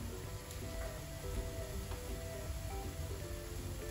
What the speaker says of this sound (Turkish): Yağ iyice kızdıktan sonra elbette yufkaları atıyorum.